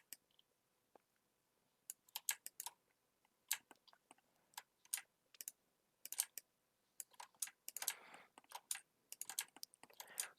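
Keyboard and mouse clicks at a computer during 3D UV unwrapping work, sparse quiet taps growing into quicker clusters of clicking toward the end, close and alone without talk.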